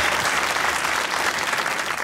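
Steady applause from an audience at a mushaira poetry recital with poet Rehman Faris, a dense, even clapping that fills the moment without any voice over it.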